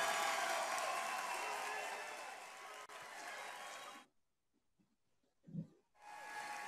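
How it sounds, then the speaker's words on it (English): Convention audience at a Green Party gathering breaks into sustained broadband applause and cheering for Julian Assange, loud and dense for about four seconds, then cutting to near silence with a brief low thump before the crowd noise swells back. "You can applaud now for Julian Assange"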